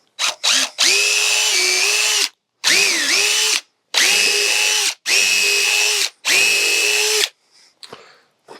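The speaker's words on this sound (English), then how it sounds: "Pre-drill so it don't split since it's at an angle like that." A power drill whirs in five sustained bursts with short pauses between, pre-drilling angled wood joists, loud and close, its pitch dipping briefly under load in one run.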